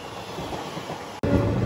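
A passenger train on the Narasapur to Arunachalam run rumbles along steadily, then a sudden jolt of louder roaring and rattling comes as it passes a goods train on the adjacent line. The sound is close and continuous, with no voices.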